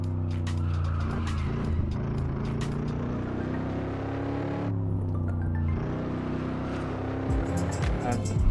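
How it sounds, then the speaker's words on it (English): Late-1950s Corvette in the Assetto Corsa racing game, engine droning steadily while the tyres squeal and scrub through corners, loud and close, with a gear change midway and a rougher bump near the end. "Sliding pound, you can really hear the tyres in this car."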